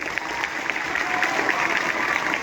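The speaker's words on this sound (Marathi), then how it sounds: "एकदा तुमच्यासाठी जोरदार टाळ्या वाजल्या पाहिजे" An audience at a school event at Aadarsh Vidyalay gives the speaker a sustained round of dense, fairly close clapping that runs throughout, with a little crowd murmur beneath.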